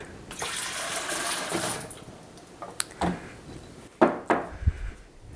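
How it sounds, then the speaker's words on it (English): Lemon juice, almost two full cups, pours in a splashing stream for about two seconds, followed by a few sharp knocks and clatters of a container. "Go ahead and pour in our lemon juice, which was almost 2 full cups"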